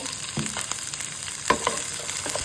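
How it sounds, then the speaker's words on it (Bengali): Okra frying in a pan gives a soft, continuous sizzle, broken by a few scraping stirs and light knocks of a spatula; no talking. "এবার এটা ভালোভাবে নেড়ে চেড়ে ভাজা করে দেব 4 মিনিটের মতো।"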